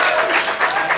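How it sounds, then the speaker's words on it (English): Wedding guests applaud the newlywed couple during the reception speeches, a dense, steady round of clapping sustained throughout at close range. "Let's give them a round of applause."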